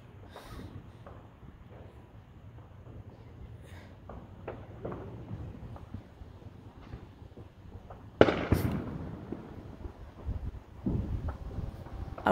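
Fourth of July fireworks explode outdoors at a moderate distance, with scattered pops and crackles and a louder burst partway through, over wind noise on the microphone.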